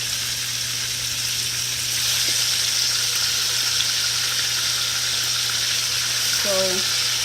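Chicken pieces sear in a hot pan for brown stew chicken, giving a loud, steady hiss of frying that runs without pause, with a faint low hum underneath and a brief tonal clink near the end.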